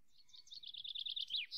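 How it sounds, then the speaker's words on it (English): Ambient birdsong in a video game, a single faint bird chirping a quick run of high tweeting notes ending in a brief sustained whistle, alone with no talk. "a lot of the ambient sound in this game is just the same damn birds over and over again"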